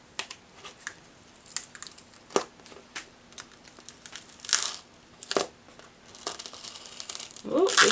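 A dried acrylic pour painting of a beach scene has a layer peeled off by hand, giving close, irregular crackling and crinkling bursts that swell into a louder tearing rustle at the end.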